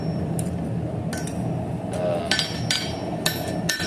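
Small square-faced hammer of about 1.5 to 2 pounds striking hot metal on an anvil while forging a Christmas project: sharp ringing clinks at irregular intervals over a steady background rumble.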